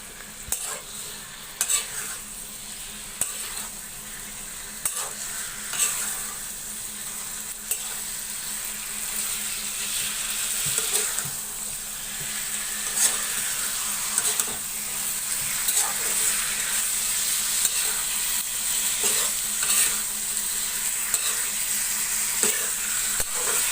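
Spice masala frying in a pan while being stirred, a continuous sizzle with repeated scraping clinks of a spoon against the pan, loud and close, no talking.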